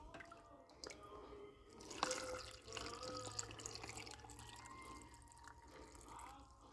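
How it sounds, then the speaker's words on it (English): Brine poured into a jar of pickled northern pike fillets, with faint trickling, dripping and splashing liquid, soft clinks and handling noises, quiet and close. "they're gonna get filled with that brine right there"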